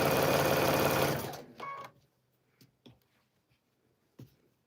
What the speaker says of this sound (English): this time I'm going to sew on the length of it